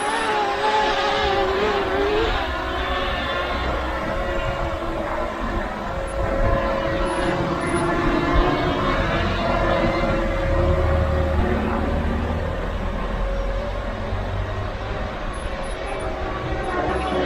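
Potensic Atom LT drone in flight outdoors, a steady motor whine with shifting tonal bands running throughout, fairly close and loud, no talking.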